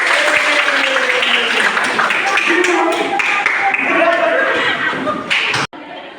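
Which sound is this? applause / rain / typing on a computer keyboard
applause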